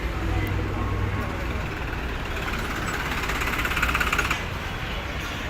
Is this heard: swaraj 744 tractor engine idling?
yes